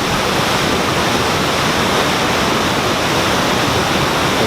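A big waterfall roars close and loud, a dense unbroken rush of falling water with no pauses and no voices over it.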